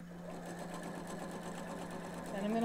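Sewing machine stitching elastic down, a steady close mechanical whir with a constant motor hum that runs continuously and grows slightly louder toward the end.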